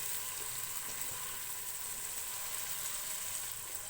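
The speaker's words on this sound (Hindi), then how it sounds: "टमाटर को सॉफ्ट होने तक पकाएंगे" Chopped medium-sized tomatoes cook over a medium flame in a pan, giving a steady, even sizzle and hiss close by with no voices.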